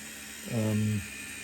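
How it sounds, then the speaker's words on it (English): A model train's big wheel spinning produces a brief, faint whirring hum that rises and fades within about half a second against a quiet background. "you can hear that big wheel spinning a little bit"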